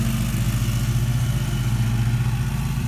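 A riding mower tractor engine drones steadily close by while mowing a yard, a loud, even, low idle-like hum with no speech over it.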